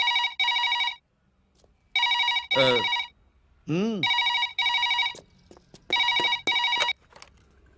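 A telephone bell rings in repeated bursts with silent gaps between them, loud and close, and brief voices come in between the rings.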